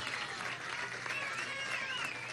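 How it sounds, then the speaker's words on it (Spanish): An audience at a televised government housing handover applauds the camera crew, sustained crowd clapping with cheering voices layered on top, loud and close. "Vamos a dar un aplauso a los camarógrafos de Vive TV."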